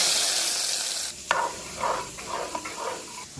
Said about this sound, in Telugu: ఇప్పుడు ఈ పోపుని ఇందులో వేసేసుకోవాలి.